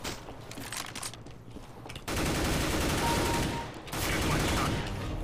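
Rifle gunfire from an M4A4 in the video game CS:GO, loud dense bursts of shots with a short pause between them, continuous and close.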